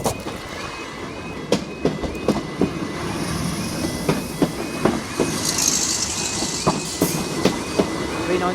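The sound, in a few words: London Northwestern Railway train passing Watford North level crossing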